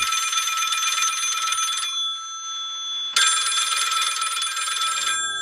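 A telephone rings with a bright, rapid electric bell trill in two long bursts separated by a short pause, loud and close with no talk.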